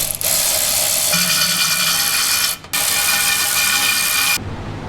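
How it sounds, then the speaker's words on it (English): A hand ratchet tightens transmission bolts on a Hellcat-swapped Dodge Dakota, giving a loud, close, rapid clicking rattle in two long runs split by a brief pause, then fading into quieter background noise, with no voices. "So, I'm gonna start getting some bolts in"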